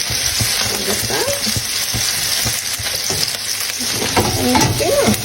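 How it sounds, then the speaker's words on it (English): Homemade rissoles slowly frying in a pan on a low simmer element, giving a dense, even, close-up sizzle that holds steady throughout. "I just pop it on one of the simmer elements and just let it slowly cook through without burning"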